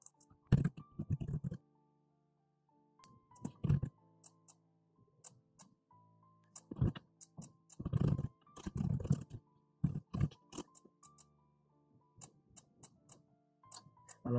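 Keys tapped on a computer keyboard while biographical details are entered into an online university application form, coming in irregular clusters of close, soft clicks with pauses between, quiet overall with no speech.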